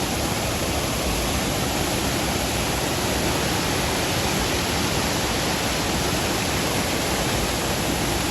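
Madhavaram waterfall rushes in a dense, unchanging roar of falling water that fills the whole stretch at an even level. There are no voices or other distinct sounds over it.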